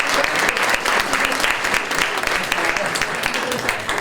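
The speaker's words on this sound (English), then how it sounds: "A big round of applause for our Secretary of State." A lunch-event crowd claps loudly for the Secretary of State, thick continuous applause with sharp individual claps standing out, staying strong across the whole stretch.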